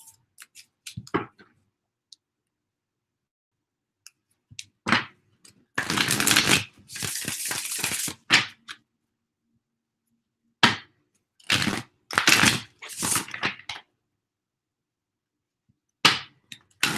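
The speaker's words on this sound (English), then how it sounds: "I'm getting some bad shuffles" Playing cards are riffled and bridged in several crisp, rapid bursts separated by silent pauses, close and clear.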